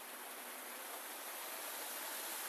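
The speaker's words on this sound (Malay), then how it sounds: "Korang nak tengok air terjun tak? Sini ada air terjun." A waterfall pours in a steady, dense hiss of falling water, heard alone and fairly distant, with no breaks or voices.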